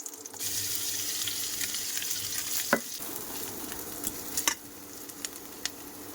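Chopped onion, whole garlic cloves and garlic-ginger paste frying in hot oil in a home kitchen, a steady close sizzle with a few sharp clinks of a utensil against the pan.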